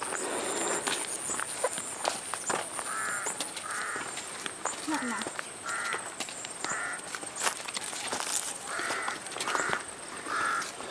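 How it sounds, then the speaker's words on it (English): A crow caws repeatedly on a farm in the Philippines, several harsh calls spaced out over ongoing outdoor background noise with occasional footsteps. "Sounds like a crow."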